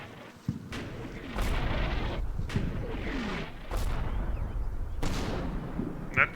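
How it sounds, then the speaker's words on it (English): Mortar rounds fire in the war game Combat Mission, about three deep booms that roll out under steady battlefield rumble, heard at a distance and fairly loud. "That sounded like a mortar mission, but only 3 shots."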